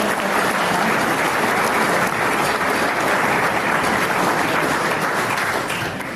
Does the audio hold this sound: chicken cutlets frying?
no